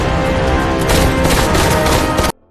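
Dense, continuous gunfire in a mall rattles loudly and without pause for over two seconds, then cuts off abruptly into near silence.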